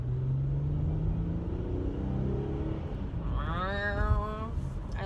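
A new car pulls away, its engine giving a low steady rumble that swells as it accelerates, with a rising whine of revs building toward the end, heard from inside with no talk.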